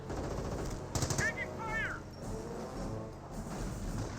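Bursts of distant gunfire crackle in Company of Heroes 1, with a brief whistling sweep and a steady background rumble.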